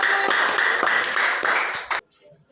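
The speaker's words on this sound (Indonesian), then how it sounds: "kita beri aplaus untuk kelompok 2" Students in a classroom clap for a group for about two seconds. The applause is dense and steady, then stops abruptly into near quiet.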